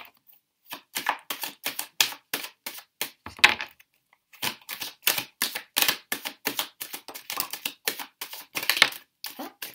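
Tarot cards being shuffled in a rapid series of crisp riffling bursts, nearly continuous with one brief pause, close and fairly loud with no talking.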